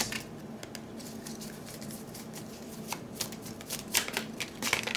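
Tarot cards being shuffled and drawn during a reading, a soft continuous riffling patter with a few sharper snaps of cards near the end, fairly quiet and close, with no talking.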